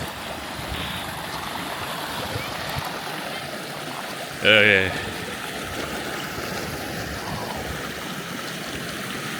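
Mountain creek rushing through a valley along the Jura Creek trail in Kananaskis, a steady broadband water wash close by, with a brief spoken voice partway through.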